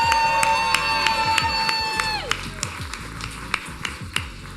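A crowd at a live sleight-of-hand show cheers and claps in a steady patter of applause, while a sustained musical tone fades out partway through.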